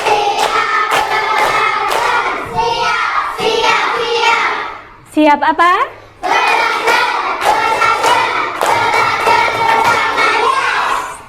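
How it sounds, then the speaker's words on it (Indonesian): Children in an Indonesian primary school classroom clap a counted pattern, bursts of sharp claps separated by brief pauses, fairly close and loud, with a short spoken prompt in the middle. "Tepuk 1, tepuk 2, tepuk 3, tepuk 4, tepuk 5."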